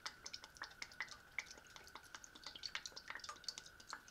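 Quiet, steady scraping and clinking of a utensil stirring egg tinola soup in a pot, in a regular repeating rhythm, close up with no talking.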